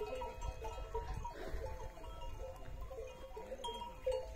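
A herd of goats and sheep on a farm in Chhattisgarh mills about with scattered bleats over a low shuffling background, fairly faint and without talk.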